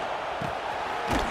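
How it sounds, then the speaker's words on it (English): A football stadium crowd roars steadily to push the defense toward a red zone stop, a dense sustained wash of noise with a swell near the end. "And here comes the noise. This crowd is trying to inspire this defense to make a big red zone stop."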